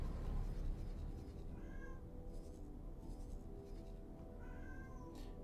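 A cat meows twice, clear, drawn-out calls standing out over a steady low hum and background game sounds.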